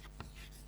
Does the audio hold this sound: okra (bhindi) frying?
no